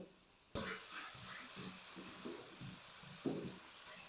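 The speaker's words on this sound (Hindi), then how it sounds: "आलूओं को ना अच्छी तरह 2 से 3 मिनट तक ना अच्छी तरह भून लेंगे" Potatoes frying in a pan, a soft continuous sizzle that starts abruptly and carries on quietly, with light stirring scrapes and a brief louder burst near the end.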